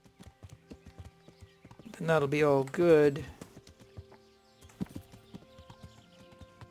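Horse hooves clip-clopping in Kingdom Come: Deliverance, a steady galloping rhythm running through the clip, with someone talking over it for a stretch in the middle.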